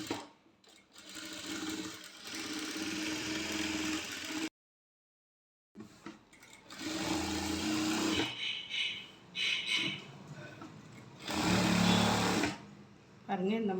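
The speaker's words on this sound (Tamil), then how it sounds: "நம்ம இப்போ லைனிங் கிளாத்தை ஃபுல்லுமே நம்ம ஸ்டிச் போட்டுக்கலாம்." A sewing machine runs in several long and short bursts of whirring, stitching lining cloth for a maxi top, with a brief full silence partway through; someone talks over parts of it.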